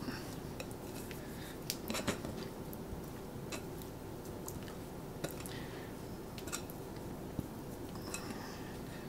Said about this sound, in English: And let's get the dough out of the bowl.